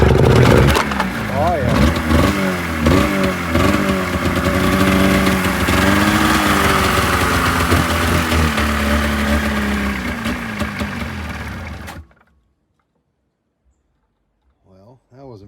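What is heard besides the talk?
Polaris XC snowmobile engine starting and running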